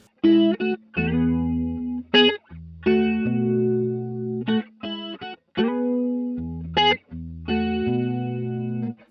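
An electric guitar plays through a chorus pedal set to its most mellow mode, giving clear sustained chords and picked notes in short phrases with brief gaps between them, close and fairly loud, with no voices.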